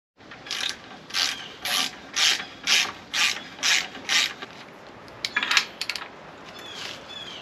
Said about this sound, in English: you got to run this sleeve down and torque it to 40 foot-pounds